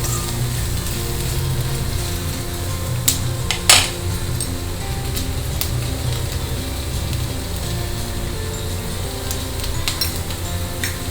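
Vegetables including capsicum being stirred in a hot frying pan for a mixed vegetable curry, a steady sizzle throughout with a few sharp clinks of a utensil against the pan.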